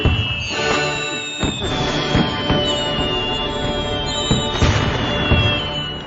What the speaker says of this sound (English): Ben appeared to be stranded out by a load of fireworks there.